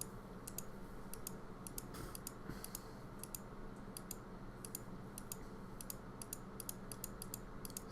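Repeated computer mouse clicks during an online Magic: The Gathering match, faint crisp clicks in quick pairs and small clusters at a steady pace over low background hum.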